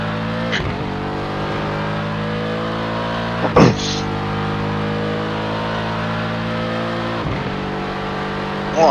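Hypercars in iRacing racing at Le Mans, a steady loud engine drone with harmonic whine and several quick pass-bys sweeping close, one sharp whoosh near the middle, no talk.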